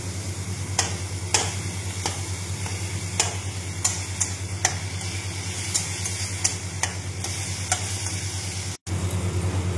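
Tomato added to cumin, ginger and green chili paste frying in a pan, a constant sizzle with a low hum beneath, punctuated by sharp spatula taps at irregular intervals and a momentary cut near the end.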